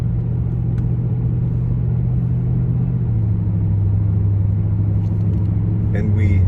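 A 2004 Ford Panther platform car accelerates along a parkway, its engine a steady low rumble with rising drone heard from inside the cabin, loud and continuous.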